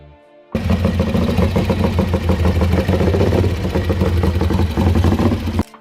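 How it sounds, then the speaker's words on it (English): A loud, steady Harley-Davidson XR-750 motorcycle engine rumble, modified for television, with a throbbing low roar that holds for several seconds, then cuts off abruptly. "The XR-750's engine sound was actually modified for television."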